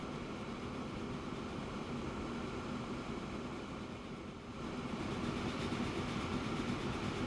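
A video-game train runs steadily along its rails, a continuous loud rumble of wheels and carriage noise with a brief dip in the middle before it rises again, with no voices.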